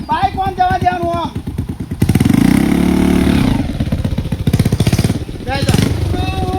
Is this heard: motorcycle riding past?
yes